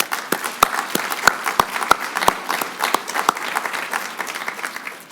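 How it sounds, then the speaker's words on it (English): Conference audience at a keynote address breaks into steady applause, with many hands clapping together and a few sharp, distinct claps standing out, sustained for several seconds. "let's give yourselves a round of applause"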